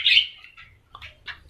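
Lovebirds, including Fischer's lovebirds, chirp in an aviary with a bright sharp call followed by a few shorter tweets, fairly close, over a low background hum.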